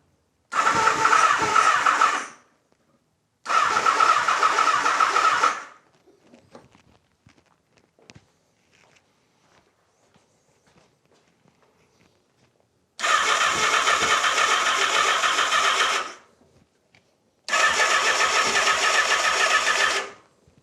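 A Honda Nighthawk motorcycle that has sat for four years cranks and fires in four loud, steady bursts of about two to three seconds each, separated by near silence, with no talking.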